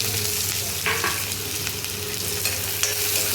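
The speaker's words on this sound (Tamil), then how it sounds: "வெங்காயத்தை நல்லா வதக்கிக்கலாம்." Onions sautéing in hot oil with spluttered mustard seeds, a dense close sizzle with occasional spatula scrapes and taps over a low steady hum, no speech.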